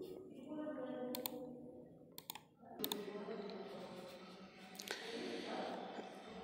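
Scattered mouse clicks and bursts of keyboard typing sound on a computer while an Aadhaar number is entered into an online form, quiet and close, with a voice talking over much of it.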